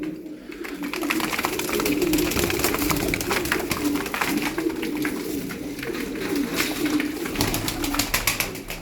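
Pigeons coo steadily and close by, a continuous murmuring flock with soft rhythmic calls overlapping throughout, no talking.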